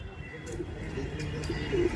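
A pair of Madrasi pigeons coos softly at close range, low repeated calls rising and falling over a steady background hum.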